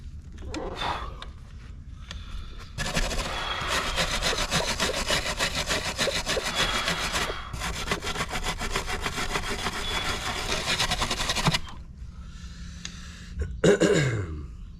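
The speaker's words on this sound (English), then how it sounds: "put some oil on it, and go ahead and tap it out" A steady rhythmic metallic scraping and grinding as an oiled tap cuts threads into a drilled hole in metal on a 1996 Mercedes SL500 R129, with quieter pauses at the start and end.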